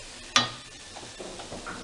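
Bean masala with turmeric being stirred in a pan: a sharp spoon scrape or clink, then faint soft sizzling and quiet stirring scrapes, close and alone.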